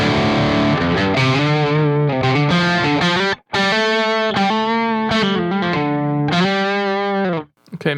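A distorted electric guitar plays chords and sustained notes through an amplifier, dry with no reverb tail, stopping abruptly in short gaps.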